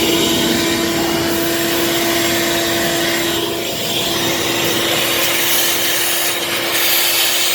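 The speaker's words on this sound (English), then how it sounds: "So to get all that sludge out, we're going to turn on this vacuum." A wet/dry vacuum runs steadily, loud and close, with a constant whine, drawing sludge and water out of an air handler's AC condensate drain line; there is no talk over it.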